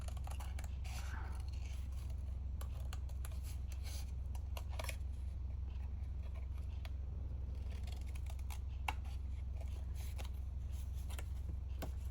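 Scissors snip through craft material for a red piece in a series of short, crisp cuts, steady and close over a constant low background hum.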